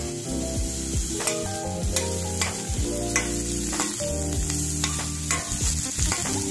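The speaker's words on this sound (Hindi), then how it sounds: "अब उसमें टमाटर और कैप्सिकम डालकर मिक्स कर लीजिए" Tomato and capsicum sizzling and frying in a pan for a one-pot pasta, loud and close, with a constant hiss and frequent spatula scrapes and clacks as the vegetables are stirred, no voices.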